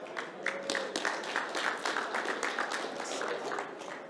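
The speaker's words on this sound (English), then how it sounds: "So if we can have a round of applause for James." A small audience at a crypto investor show stage applauds Bitcoin pioneer James Howells, a moderate crowd of hands clapping in a brisk, fairly even patter heard from a short distance.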